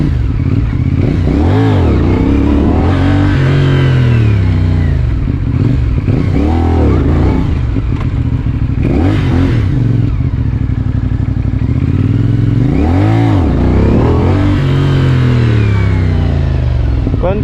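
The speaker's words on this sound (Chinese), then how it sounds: "关掉之后 ，TC 整个发动机的出力就非常的顺" A CFmoto 450NK motorcycle engine with traction control switched off revs loudly and continuously, rising and falling in repeated swells of throttle up close.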